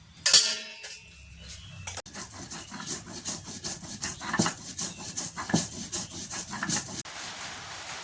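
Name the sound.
mixing sliced raw mango with mustard and green chili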